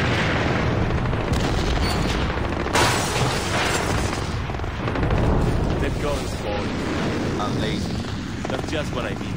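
Explosions boom and rumble in Splinter Cell Blacklist gameplay, with dense, loud bursts layered over continuous game noise and a voice speaking in the background.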